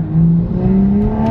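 A modified 550 bhp Toyota Supra engine growls up through the revs, its rising tone loud and close, with a raspy, throaty edge.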